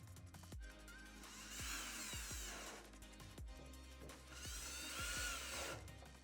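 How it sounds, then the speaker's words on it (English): Power driver whirring in short bursts as the eight outer panel screws go back into a Honda Talon 1000R/X UTV, with rising and falling motor pitch and a few clicks between runs, close and fairly quiet, with no talking. "we're going to reinstall the outer panel and the 8 screws"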